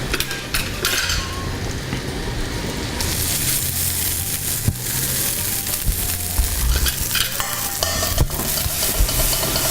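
Cooked rice is stirred into a sizzling vegetarian dish in a pan, with steady frying hiss, scraping of a utensil and clinks against the pan throughout, loud and close.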